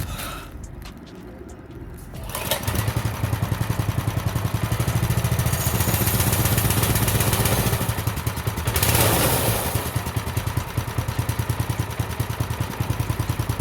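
Small Baja mini bike engine running steadily, a loud mid-pitched buzzing idle with a rattling clatter, briefly revving up around the middle before settling back to a steady drone.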